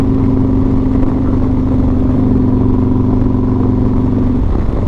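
Motorcycle fitted with a Bassani exhaust and an S&S 475 cam idling and revving, a loud steady engine drone close by with a constant low rumble that runs without a break.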